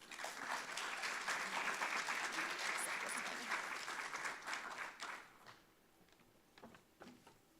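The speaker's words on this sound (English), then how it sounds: "So please give him a round of applause." An audience at a university event applauds as the Emory University provost is welcomed to the stage, with dense clapping for about five seconds that then thins out to scattered claps.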